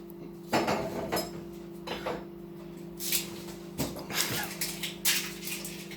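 A knife cuts an onion in half on a cutting board while homemade bolognese is being prepared, giving several distinct knocks and taps at an irregular pace against a steady background hum.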